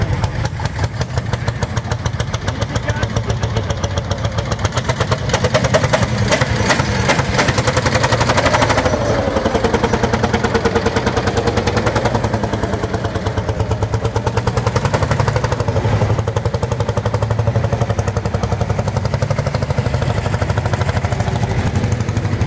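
A big single-cylinder Lanz Bulldog tractor engine chugs steadily in a loud, rhythmic thumping beat that holds for over twenty seconds, close by and alone.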